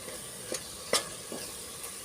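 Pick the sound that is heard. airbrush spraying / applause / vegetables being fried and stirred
vegetables being fried and stirred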